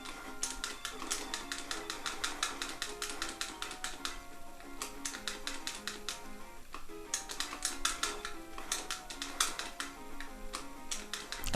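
Chunky, clicky buttons on a Mega Man The Wily Wars game controller are pressed in rapid, irregular bursts of sharp taps, close and fairly quiet, with brief pauses between flurries.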